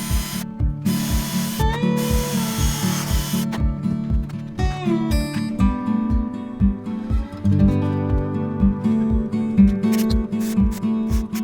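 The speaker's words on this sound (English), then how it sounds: "then I'll drill through the top as well so that both pieces are properly connected" A power drill boring through the top of a wooden PC desk gives a rhythmic series of sharp mechanical bursts, loud and close, repeating steadily with whirring between.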